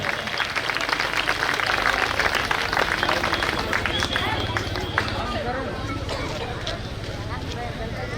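Applause from a crowd at a political party's victory celebration in Aurangabad, sustained clapping with a dense rattle across the whole stretch, mixed with crowd babble and a voice talking over it.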